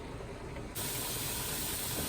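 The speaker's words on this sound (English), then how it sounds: "we've got a nice steady stream of steam" Steady hiss of steam venting from a pressure canner while processing homemade grape juice, a broad continuous rush that jumps louder partway through and then holds even, close and alone with no talking.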